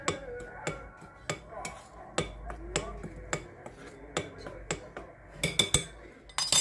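Spoon or utensil clinking against a bowl while stirring a dough mixture for quick stovetop pastries, a series of sharp irregular taps and scrapes, close and fairly loud.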